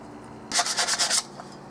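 Scraping old gasket material off the metal surfaces of a 21-gallon Harbor Freight air compressor: a burst of about six rapid, close rasping strokes over under a second, then quiet.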